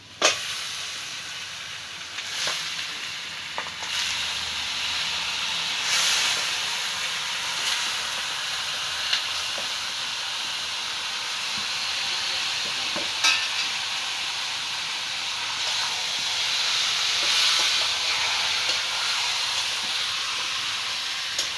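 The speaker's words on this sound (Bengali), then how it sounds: "মশলা আলু দিয়ে সব কষিয়ে নিলাম আর মাংস দিয়ে দিলাম" Chicken pieces with spices and potatoes sizzle and fry steadily in a pan for chicken kosha, a continuous close hiss with occasional stirring scrapes and clicks, no talking.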